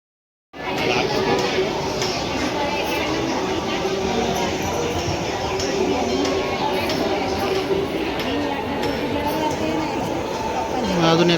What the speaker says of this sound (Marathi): किती गर्दी लागली